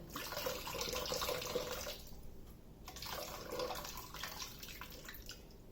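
Water from a pot of boiled grapefruit peels is poured out into a sink, a broad continuous rushing splash with a brief lull partway through before the pouring resumes, fairly close and loud with no talk.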